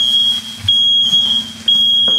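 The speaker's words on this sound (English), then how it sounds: "That's the smoke alarm." A home smoke alarm set off while smash burgers fry emits loud, piercing, sustained beeps, three in a row with short gaps, over a low background hum.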